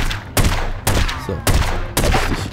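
Gunfire in The Godfather video game: four loud, close bursts of shots spaced about half a second apart, each with a short echoing tail.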